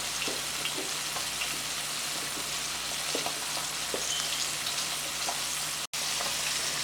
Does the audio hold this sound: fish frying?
yes